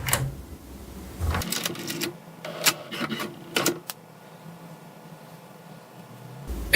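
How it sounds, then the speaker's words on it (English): An HP DeskJet 2810 inkjet printer runs its first page, with a series of mechanical clicks, whirs and short feed bursts, then a long stretch of quiet carriage motion. A loud clack comes at the end. "is the first printout from your HP DeskJet 2810 printer."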